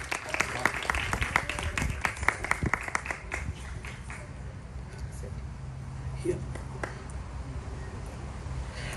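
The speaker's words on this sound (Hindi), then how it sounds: "तालियों के साथ" An audience at a World Hindi Day celebration hosted by the High Commission of India applauds a speech competition prize winner, with scattered clapping at the start that fades while a voice and room noise continue.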